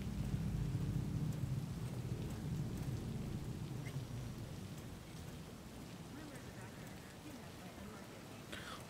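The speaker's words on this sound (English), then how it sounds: "I just realized it was raining" Steady rainfall in the Cyberpunk 2077 game world, a dense continuous hiss with low rumbling underneath that eases slightly over time, with a faint voice murmuring in the background.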